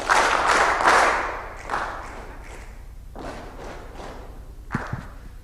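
A small audience claps along to a song in loose, uneven bursts, louder at the start and then thinning to scattered claps and a few sharp single hits.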